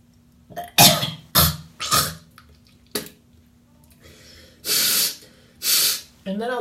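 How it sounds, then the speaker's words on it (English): Close, loud nose blowing in a bathroom during a morning dental hygiene routine, heard as several forceful, breathy bursts in an uneven rhythm, with short snorting breaths between them over a faint steady hum. "And then I'll just blow my nose"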